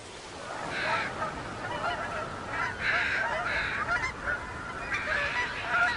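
Geese and other water birds honking on the Mississippi River in fall, a continuous chorus of overlapping calls at moderate distance over a steady background hiss.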